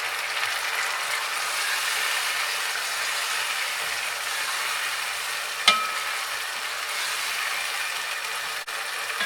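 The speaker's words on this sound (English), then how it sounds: "Boiling." Cabbage with tomato cooks in a pot, making a steady hissing, bubbling sizzle that runs evenly throughout, broken by a single sharp clack near the middle.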